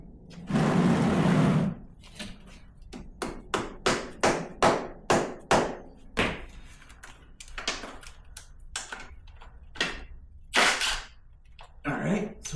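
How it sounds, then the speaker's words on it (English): A hammer strikes a stripped plug on a motorcycle crankcase, giving a rapid series of sharp, close metallic taps in a steady rhythm after a brief burst of noise at the start. "so we're going to hammer it down."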